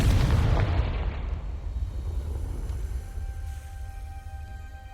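A Confringo spell exploding in Hogwarts Legacy, with a loud burst at the start that decays into a long rumbling tail and faint ringing tones.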